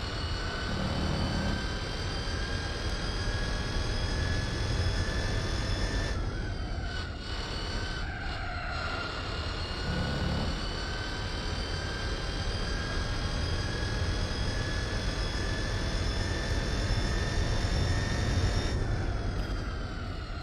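A quiet, steady turbine-like whine of an electric car in Gran Turismo 4 holds throughout with layered high tones and a faint low rumble. A few brief dips come in the middle.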